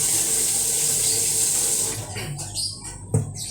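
Water runs steadily from a tap while rice is rinsed, a strong hissing stream that cuts off partway, leaving quieter splashing and a brief clatter at the end.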